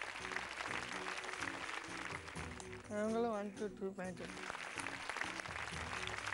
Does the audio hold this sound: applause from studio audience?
yes